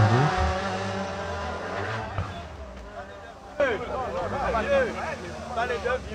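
A C2R2 Max rally car at the Rallye des Grands Fonds revving its engine, rising in pitch in repeated sweeps, with excited commentary over the engine from the start.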